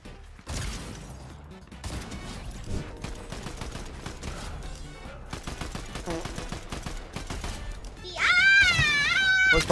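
Sniper rifle gunfire in the video game Fortnite cracks amid dense, loud battle noise and other shooting, while a player talks excitedly over the action.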